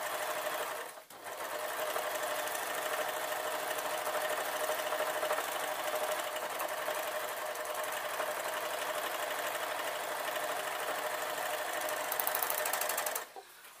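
A sewing machine hums in one long continuous run stitching the arm seam of an off-the-shoulder dress, fairly quiet and even, with a brief pause near the start and a stop at the end.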